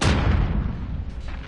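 Heavy explosions in the Modern Warfare beta's Ground War mode: a loud, rumbling blast opens the clip and tails off into a rolling, booming wash of battlefield noise.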